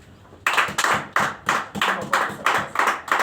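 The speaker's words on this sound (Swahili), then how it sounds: "Kama makofi ni ya Baba yetu aliye mbinguni, apigiwe makofi mzuri." A church congregation claps together in a steady rhythmic beat of sharp, loud hand claps, about eight strong claps with no other sounds.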